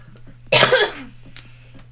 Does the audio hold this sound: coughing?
yes